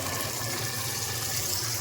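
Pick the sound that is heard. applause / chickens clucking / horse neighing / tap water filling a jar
tap water filling a jar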